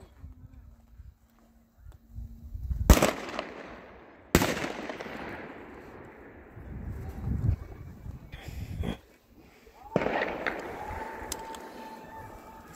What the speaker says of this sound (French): Ah, des feux d'artifice là-bas, bien loin.